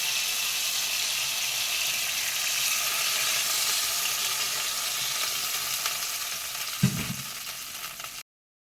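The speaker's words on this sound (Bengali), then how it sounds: "এবার এখানে জল অ্যাড করছি" Water poured into a hot pan of pointed gourd with cashew-poppy seed paste, giving a continuous close sizzle and bubbling with one soft knock before it cuts off.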